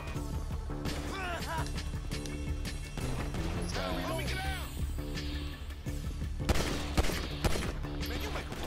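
Rapid gunfire in the video game GTA 5: dense, repeated shots and bursts keep going throughout alongside game effects, with a voice speaking over the action.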